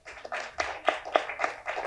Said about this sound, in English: So, round of applause for Geeta.